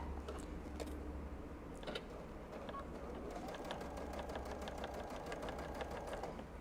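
Home sewing machine stitching across a quilt made with pre-printed batting, a steady close motor hum with rapid, even needle ticking throughout, faint and uninterrupted.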